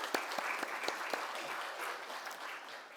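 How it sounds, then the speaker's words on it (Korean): Church congregation at a Sunday service applauding to give glory, a dense, moderately loud wash of clapping with a few sharper individual claps standing out, fading slightly toward the end. "크게 영광의 박수를 돌리겠습니다."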